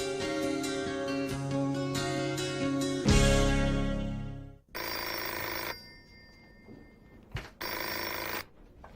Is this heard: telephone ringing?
yes